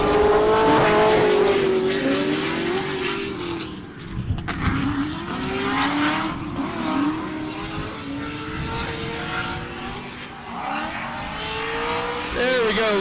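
Drift car in drift qualifying at an LS engine event, engine roaring and revving hard under full throttle with tire squeal, loud and close throughout, with commentators talking over it.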